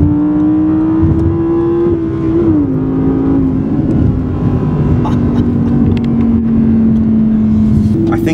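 A yellow Audi R8 accelerating along a straight road in Bahrain, its steady, close engine tone climbing and shifting pitch between gears, with someone talking over it throughout.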